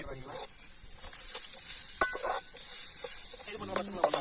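Chopped small onions (shallots) sizzle steadily in a hot pan for village-style veg noodles, with occasional stirring scrapes and clinks of a utensil, loud and close.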